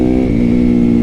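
A supermoto motorcycle engine roars loudly and up close in one sustained, steady revving drone.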